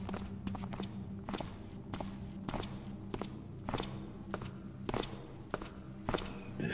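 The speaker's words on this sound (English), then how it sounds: "I'm hearing footsteps down here." Footsteps approach in a Thief video game fan mission, a steady series of soft, evenly spaced thuds over a low ambient hum, about a dozen steps in a row, with no talk.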